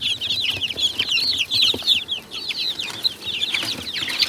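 Young chickens kept in a small enclosure at night under a lamp keep up a dense, continuous chorus of high chirps and peeps, close by and fairly loud, with no talking.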